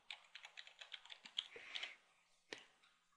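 Quick bursts of keystrokes on a computer keyboard while entering an admin username and password at a help desk, a rapid run of clicks, a brief pause, then one last sharp keypress, close and fairly quiet.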